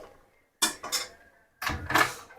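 A metal kadhai being set down and slid on a kitchen stove while cooking Banarasi chivda matar: two pairs of sharp metallic clanks and scrapes, close and clear, with quiet gaps between them.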